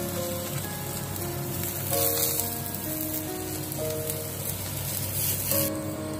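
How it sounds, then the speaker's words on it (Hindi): Wheat flour taco shells fry in ghee until crisp, giving a steady, close sizzle and crackle with soft background music underneath. "इनको क्रिस्पी होने तक दोनों साइड से सेकें।"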